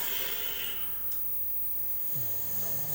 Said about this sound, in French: t'arrêtes pas de ronfler, hein